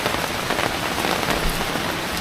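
Steady rain pouring down outside a small shop, a loud, dense hiss of drops hitting surfaces with no break, close and alone without voices.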